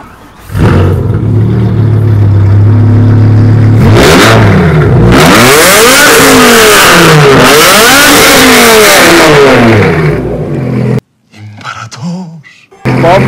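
A BMW E60 M5's V10 engine, the type once used in Formula 1 cars, revs hard and close in a series of rising and falling sweeps, then cuts off abruptly into brief quiet and faint noise.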